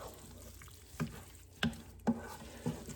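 Beef ravioli filling mixed with breadcrumbs is stirred together in a bowl, giving four soft, evenly spaced thuds and scrapes over a low, steady kitchen background.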